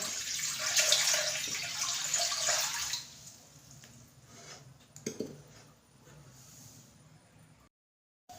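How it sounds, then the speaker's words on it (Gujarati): Water running into a pot to be heated for making khaman dhokla, a close splashing pour for a few seconds that stops, followed by quieter kitchen handling sounds and a clink. "હવે આપણે આમાં ગરમ પાણી કરવા મૂકી દઈએ."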